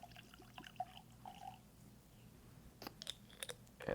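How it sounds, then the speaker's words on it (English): A small pour of Rare Breed 112.8 proof whiskey into a glass, faint and close, with a soft trickle followed by a few sharp clinks near the end. "Pouring a little bit of whiskey."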